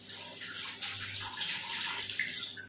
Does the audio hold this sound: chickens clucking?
no